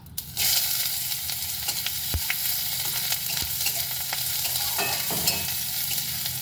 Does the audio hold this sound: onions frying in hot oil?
yes